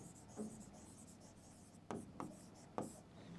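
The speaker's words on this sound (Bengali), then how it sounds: "এবার লিখব বিবর্ধন" Chalk or marker strokes on a board during a physics lesson on reflection of light, a few short scratchy bursts spaced apart, quiet and close with no talking.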